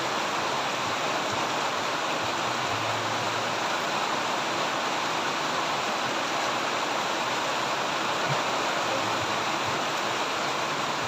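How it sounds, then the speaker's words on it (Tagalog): Heavy rain pouring down outdoors, a dense, constant loud hiss of falling water that holds steady throughout with no talk over it. "ang grabing lakas ng ulan"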